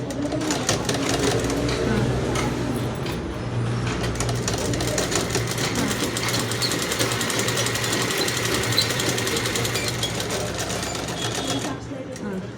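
An electric sewing machine runs in one long steady stitching pass as it sews down the placket on a collar for a churidar or panjabi, with a constant mechanical hum and rattle. Someone talks over it.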